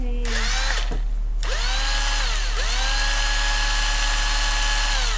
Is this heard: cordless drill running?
yes